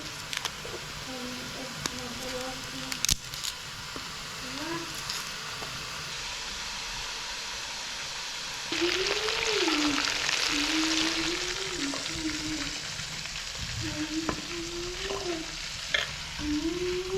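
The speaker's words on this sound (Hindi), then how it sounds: "फ्राई करना है। Fry chicken." Chicken frying on a small mountain stove, a steady close sizzle and crackle running throughout, growing louder midway, with someone speaking over it at intervals.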